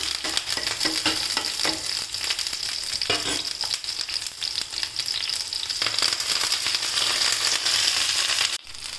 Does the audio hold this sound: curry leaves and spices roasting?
yes